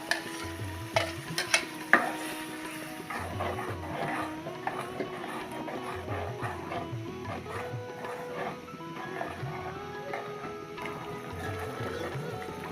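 Blended tomato sizzles and bubbles in a hot pan on a Bengali-style stovetop, a continuous close frying hiss with occasional stirring clatter and a few sharper knocks, steady and moderately quiet.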